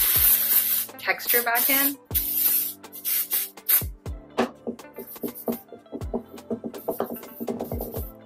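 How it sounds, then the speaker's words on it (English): Dry shampoo sprayed onto thin, fine hair in short aerosol bursts, hissing close up: a few longer sprays, then a rapid run of brief puffs, with someone talking between them. "So first, dry shampoo just to get"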